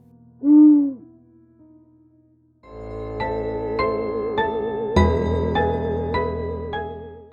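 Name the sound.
owl hooting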